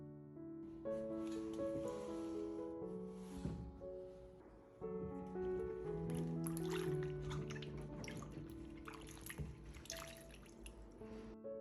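Tomatoes are rinsed in clean water: light dripping and splashing come and go over steady background music.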